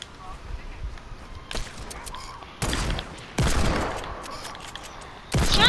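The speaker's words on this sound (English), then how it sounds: "Man, this dude shooting at me." Bursts of gunfire from the battle-royale video game Fortnite, several sharp volleys and louder blasts spaced irregularly over low background noise, with no speech over them.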